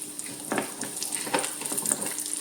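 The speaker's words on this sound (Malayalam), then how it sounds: "ഫ്രൈ ആയി വരുമ്പോഴത്തേക്ക് ഇച്ചിരി മുന്തിരിങ്ങയും കൂടി ഇട്ട് പെട്ടെന്ന് തന്നെ ഒന്ന് ഫ്രൈ ആക്കി എടുക്കാവേ" Raisins, almonds and cashews fry in ghee with a busy, close crackling sizzle, punctuated by brief bursts of spattering and faint stirring.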